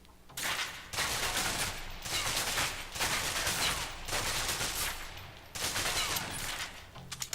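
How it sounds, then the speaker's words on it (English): A submachine gun in a third-person video game fires long sustained bursts, emptying the magazine in several loud, dense stretches of rapid gunfire with brief pauses between, no voices. "Now let's empty the clip."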